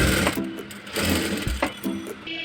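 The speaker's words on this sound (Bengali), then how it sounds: "এটার গলায় যেহেতু কুচি আছে সেজন্য আমি আগে কিন্তু কাপটা সেলাই করে নিচ্ছি।" A sewing machine stitches the cup of a frock in short, rapid bursts of rattling needle strokes with brief pauses between runs, close and loud, with no voices.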